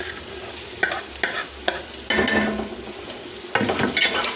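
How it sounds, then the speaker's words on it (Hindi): Onions frying in a pot for daal gosht, a steady sizzle under repeated scraping stirs of a spoon against metal, close and fairly loud with no speech. "अब हम इसे सुनहरा लाइट ब्राउन कर लेंगे प्याज को।"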